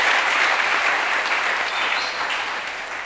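A church congregation claps to acclaim the Lord during a bishop's sermon, dense sustained applause from many hands filling the room, loud at first and tapering slightly toward the end.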